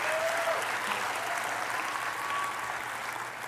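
A large crowd at a commencement ceremony claps continuously, a dense, even wash of applause that holds for a few seconds and eases slightly at the end.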